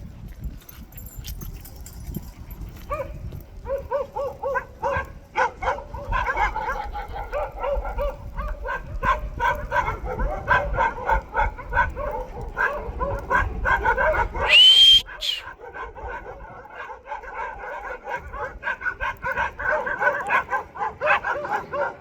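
Dogs bark and yip repeatedly in uneven bursts, close and fairly loud, with some whimpering between; stray street dogs.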